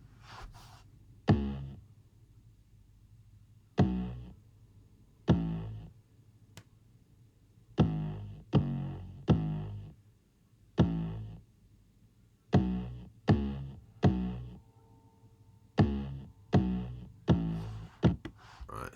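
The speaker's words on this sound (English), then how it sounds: "So here's the drum beat." A one-shot drum beat plays back in Logic, sharp hits landing in an uneven, looping pattern over a low sustained hum, close and clear with no talking.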